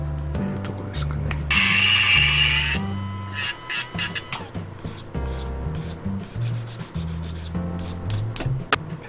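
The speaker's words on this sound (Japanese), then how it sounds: "ギリギリまで削って、あとはペーパーで整えて" Sandpaper rubs over a plastic Gunpla model part in quick, close scratchy strokes, with one longer, harsher stretch early on, all over steady background music.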